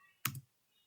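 A single brief burst of keystrokes on a computer keyboard as an ipconfig command is typed, a sharp clatter lasting a fraction of a second, close and fairly quiet, then silence.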